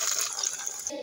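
Water is gathered for a game, splashing and trickling in a short, busy burst close to the microphone.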